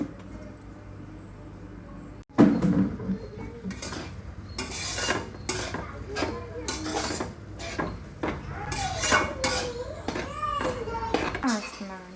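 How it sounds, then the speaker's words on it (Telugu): A metal lid clatters onto a pot of dried fish and tomato curry, a sharp clank followed by dish and utensil knocks while someone talks throughout. "నేను మూత పెట్టేస్తాను"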